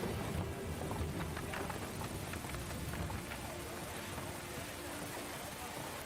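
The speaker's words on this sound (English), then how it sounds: "I'm gonna turn the rain down just a little because that's loud." Steady rain hisses in a fantasy role-playing video game with the volume turned slightly down. It forms a constant wash under a person talking, with faint footsteps or hoofbeats mixed in.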